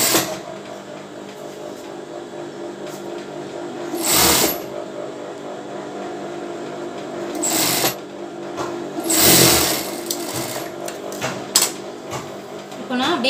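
A sewing machine stitches a bra in a tailoring setting, running steadily and close throughout, with a few louder clattering bursts of handling noise interrupting it.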